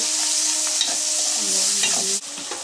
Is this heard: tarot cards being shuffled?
no